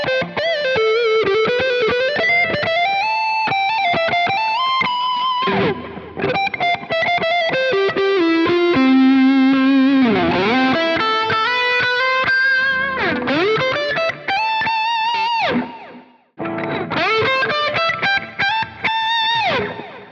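PRS SE electric guitar with 58/15 pickups, switched to the neck pickup and played through an effects chain with distortion, ringing out sustained, harmonically rich notes and bends that run almost continuously, with a few brief gaps.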